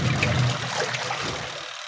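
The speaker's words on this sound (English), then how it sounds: "I'm spinning for like 3 minutes. I'm mixing the soap with water." Water churning and trickling inside a semi-automatic washing machine as it spins to mix soap with water, a close, steady swishing with a low hum fading out toward the end.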